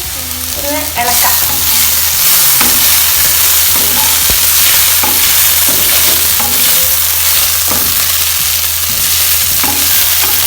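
Sliced onions and turmeric fry in a pan as a spoon stirs them, making steady loud sizzling with repeated scraping and clattering strokes, heard alone and close.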